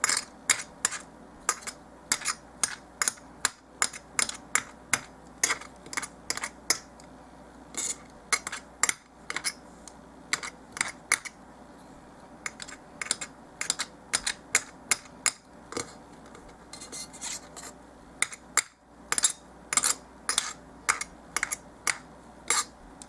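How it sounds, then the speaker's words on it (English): Knife chopping polymer clay on a hard surface to make doll-size burger patties, a long run of sharp, close taps in quick uneven bursts with short pauses between, no talking. "we're going to keep chopping this until it's really finely chopped"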